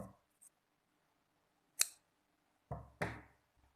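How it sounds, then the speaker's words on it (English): A few crisp scissor snips cut through crochet yarn while finishing a crocheted face mask. The quiet, isolated cuts are separated by short silences. "in the end, we have to cut our yarn"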